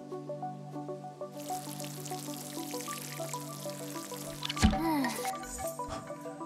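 Water is spilled while watering a plant in the video game Dordogne: a steady splashing pour, then a sudden louder splash with a swooping tone, all over light plucked music.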